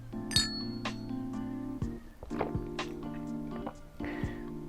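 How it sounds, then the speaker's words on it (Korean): Drinking glasses holding a homemade bokbunja berry drink clink together in a toast, several bright ringing taps with lingering tones, close by, spread over a few seconds. "일단은 먼저 한번 짠 하실까요?"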